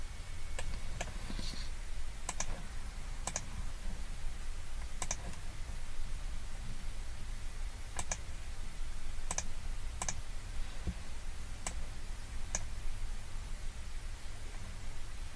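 Computer mouse clicking while drawing lines in CAD software, sharp isolated clicks scattered irregularly, some in quick pairs, over a steady low hiss with no talk.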